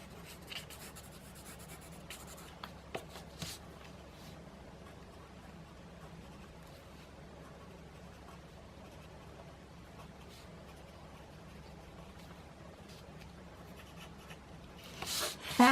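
A pen scratches across paper in quick ink drawing strokes, faint and close, with soft rubbing and a few louder taps, ending in a brief handling noise.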